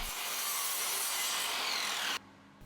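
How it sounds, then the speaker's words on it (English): A miter saw trims small wood pieces for a drill mobile base, giving a steady whining, rasping cut for about two seconds before stopping abruptly, leaving a low fading hum. "use the miter saw just to trim off these bits"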